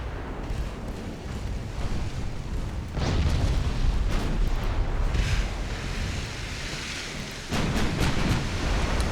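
Enemy Spanish warships exploding in the naval video game Ultimate Admiral Dreadnoughts give a dense, rumbling roar of blasts and debris. The roar swells in loud waves over several seconds and never falls silent.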